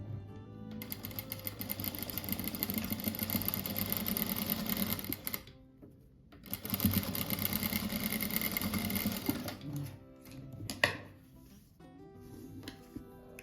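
A sewing machine stitches small fabric scraps together for a patchwork rug, running in two long steady whirring bursts separated by a short pause, then a few brief clicks and handling noises.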